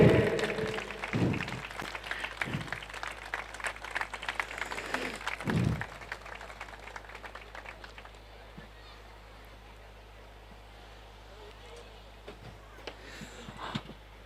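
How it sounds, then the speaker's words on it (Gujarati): A hall audience at a Kutch Vagad Leuva Patel Samaj get-together in Bangalore claps in a loud burst of mixed applause over the first several seconds, with voices talking underneath, then the sound thins to a quiet murmur. "મિત્રો જોરથી તાળીઓ વગાડજો."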